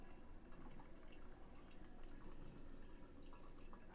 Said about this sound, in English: I can hear it brewing.